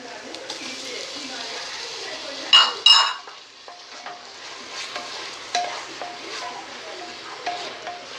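Tomatoes drop into hot oil with ginger garlic paste for goat leg soup, sizzling steadily while a spoon stirs and scrapes the pan with a couple of louder clinks, and a voice talks over the cooking.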